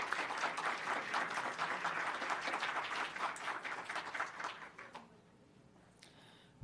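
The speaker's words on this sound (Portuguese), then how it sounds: "E uma calorosa salva de palmas" An audience applauding a retired professor of agricultural economics after a lecture on food security, with dense, sustained clapping from a crowd for about five seconds before it quickly dies away.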